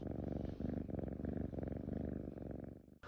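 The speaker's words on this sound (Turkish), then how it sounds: "Ben kedilerin bu şekilde mırladıklarını ve o mırlamanın mutluluk" A cat purrs steadily and close up, a low rumbling throb in slow rhythmic pulses, continuous for a few seconds before it briefly cuts off.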